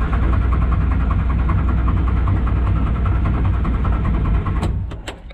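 A Morris Minor engine runs on choke with a fuel float bowl showing rust and a weak battery, giving a rough, steady, close idle. Near the end it falters with a few sharp clicks.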